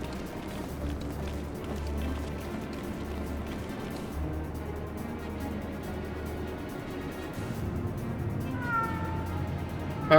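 A game cat in Final Fantasy XIV gives a brief meow near the end, thin and clear over a steady bed of ambient game music and background sound, with no talking over it.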